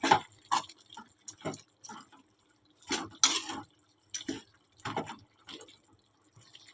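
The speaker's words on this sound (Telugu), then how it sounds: "ఇవన్నీ వేసుకొని ఇప్పుడు ఒకసారి బాగా కలుపుకుందాం" Spices stirred into chicken curry in a pot, a series of short wet scraping and squelching strokes in uneven rhythm, close by and fairly quiet, with no voices.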